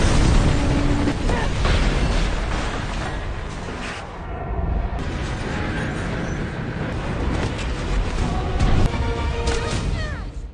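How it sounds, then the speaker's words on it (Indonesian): An explosion in the Black Widow film sounds as a dense, loud rumbling blast with bursts and debris crackle, the roar dipping briefly midway before building again through continuous action noise. "terjadi ledakan di antara lokasi mereka."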